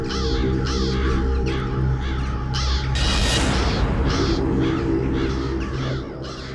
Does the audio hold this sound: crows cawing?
yes